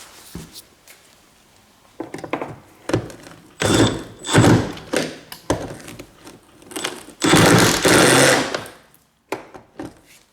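A wrench works a bolt loose on a car fuel tank, giving bursts of metallic grinding and clunking that start and stop irregularly, fairly close and loud, with no talking.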